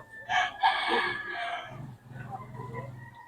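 A young gamecock, a stag, crows once nearby in a single drawn-out call, with faint background voices after it.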